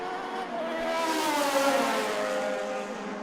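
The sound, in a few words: Judd 4-litre F1 engine race car accelerating on main straight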